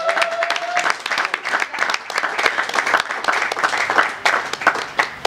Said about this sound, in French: On va applaudir une fois de plus pour ces messieurs.